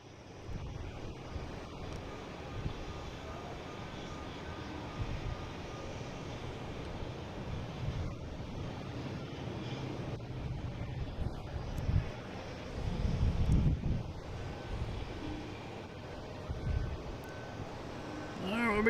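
An American Airlines airliner in Allegheny retro livery arrives at an airport by Logan Lagoon, a low distant engine rumble swelling toward the end amid wind noise on the microphone.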